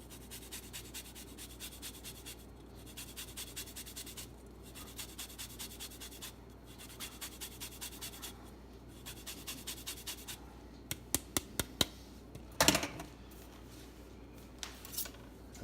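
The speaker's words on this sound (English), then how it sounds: "And then I'm going to finish this with some orange zest." An orange being zested on a grater, with soft rhythmic rasping strokes in regular bursts, faint and close, followed by a few sharper knocks and scrapes near the end.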